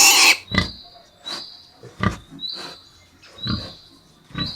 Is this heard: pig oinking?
yes